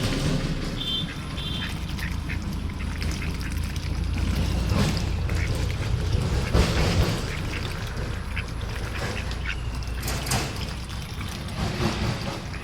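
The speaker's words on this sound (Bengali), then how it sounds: "হাঁসের খাবার দিছি" Ducks quacking steadily while being fed, with several birds calling close by over a continuous noisy outdoor background and occasional splashing or pouring water.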